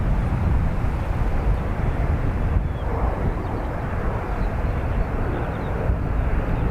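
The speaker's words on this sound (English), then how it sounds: "Qatar Dreamliner in from Doha." A Qatar Airways Boeing 787 Dreamliner arrives at Dublin Airport, a continuous deep, rumbling jet roar that stays strong and steady, with slight swells, and no other sounds over it.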